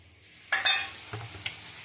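Chicken frying in ghee with cardamom gets stirred, a couple of sharp scraping spoon strokes followed by a soft sizzle and a few lighter clinks, close and without talk.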